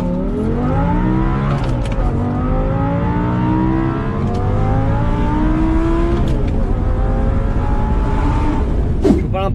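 Audi R8 V10 with a manual gearbox revving hard, the engine note climbing through several gears with brief drops at each shift, loud and close with no voices.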